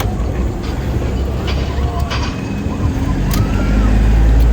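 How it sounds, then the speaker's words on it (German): A roller coaster at Genting SkyWorlds theme park rumbles past with a loud, continuous low roar and rattling track noise that builds toward the end, with faint voices underneath. "Da fährt sie. Meine Lieblingsachterbahn."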